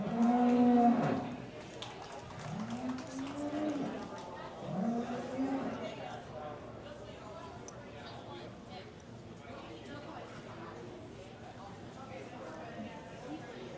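Jersey cows in a dairy show ring give two or three drawn-out moos, the first loudest, with a murmuring crowd and announcer talk continuing underneath in a large arena.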